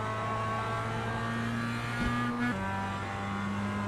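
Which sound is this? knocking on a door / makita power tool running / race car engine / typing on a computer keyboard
race car engine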